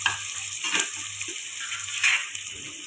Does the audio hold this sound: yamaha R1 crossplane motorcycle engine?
no